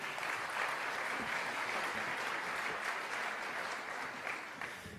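A conference audience applauds a returning speaker at an education conference on middle grades math, steady sustained clapping from a large room that eases slightly at the end.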